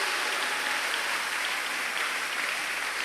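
A church congregation applauds and cheers for Jesus in dense, steady clapping that fills the room at full loudness, with no pause and no voice standing out above it.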